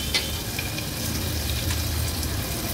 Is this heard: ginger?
yes